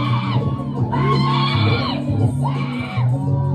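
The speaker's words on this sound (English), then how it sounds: "why is y'all screaming like that?" A live pop concert crowd screams and cheers loudly in repeated swelling bursts, with high shrieks and shouting rising and falling over about three and a half seconds and no clear speech over it.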